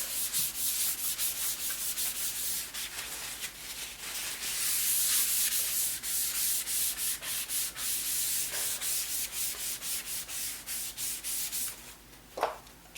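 Plastic razor blade scraping sticker residue off a laptop surface in quick repeated close-up strokes, a dry rasping rub, with one sharper scrape near the end.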